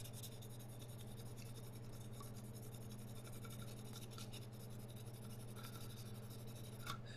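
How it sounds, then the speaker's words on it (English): Pencil rubbed steadily back and forth over paper laid against a wall-mounted electronics bracket to make a template of the hole spacing, a faint continuous scratchy rasp heard close up over a low background hum. "So I'm going to take my pencil and do a rub."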